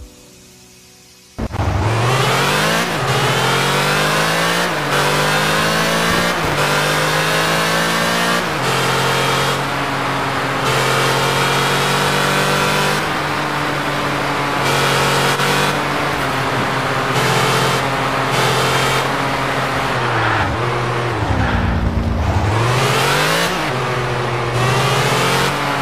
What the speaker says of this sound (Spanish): vamos a escuchar el famoso Pagani totalmente stop